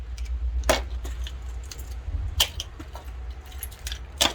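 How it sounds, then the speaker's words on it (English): Several sets of vehicle keys jangle in a fleet yard, with distinct metallic rattling bursts at a few points, loud and close over a low background rumble. "And now another 3 sets of keys."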